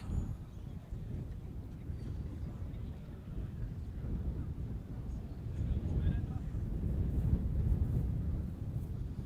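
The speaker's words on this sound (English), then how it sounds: "that breeze just continues to gust up here at Lakeside" Wind gusts across an outdoor athletics track at Lakeside during a 5000m championship race, a low buffeting rumble on the microphone that swells and grows stronger toward the end.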